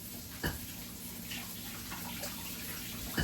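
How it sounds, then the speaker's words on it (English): Chicken feet for a Jamaican soup are rinsed under a running tap. The water flows in a steady wash, with a couple of brief clunks of handling near the start and end. "So yeah, so I'm gonna wash it real good."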